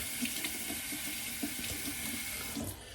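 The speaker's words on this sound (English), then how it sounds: "I'm going to rinse with warm water because I'm probably going to go for another pass" Warm water runs steadily from a tap as a beard trimmer is rinsed under it in a sink, a close, continuous splashing stream with no voices.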